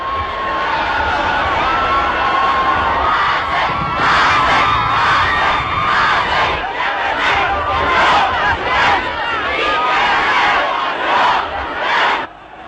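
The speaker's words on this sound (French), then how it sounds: "La foule maintenant n'est qu'un immense délire que rien ne peut endiguer." A vast frenzied crowd at Gamal Abdel Nasser's funeral, loud continuous roaring, shouting and chanting voices swelling in waves throughout.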